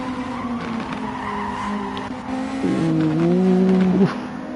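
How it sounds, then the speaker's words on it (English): Race car tyres squealing in a GT1 sim racing game at Autopolis, a sustained tonal screech that rises and wavers for over a second over steady engine drone, loud and close. "Hearing some tyre squealing and Chubbs is smoking the tyres there."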